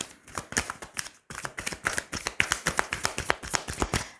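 Tarot cards being shuffled and laid down, a rapid series of crisp close slaps and riffles with a short pause early on, no talking.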